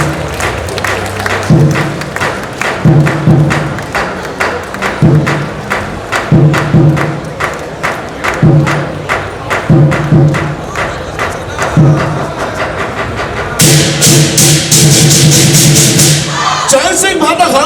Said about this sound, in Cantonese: 掌聲拍得響，個個有福享